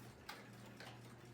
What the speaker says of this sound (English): I got the old 1917 New Haven Auston model clock going.